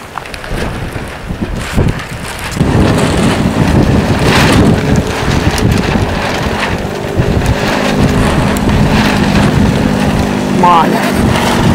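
Wind gusts buffet the microphone with a heavy, rumbling roar that swells after a couple of seconds and continues, with a voice faintly underneath.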